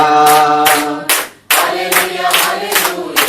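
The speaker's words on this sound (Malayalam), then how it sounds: "ശക്തിയോടെ കൈയടിച്ച് പാടിക്കേ" Loud, steady hand clapping from a children's worship group, sharp rhythmic claps in bursts alongside sung chorus, with a brief pause midway before the clapping resumes.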